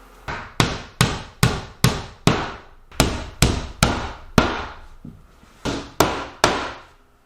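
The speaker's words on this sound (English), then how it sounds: "I'm face nailing it, and I'm not worried about seeing the nails" Hammer blows driving nails to face-nail trim on a newly installed door during a home renovation: about fourteen sharp, loud, close strikes in a steady rhythm with brief pauses, each ringing out shortly.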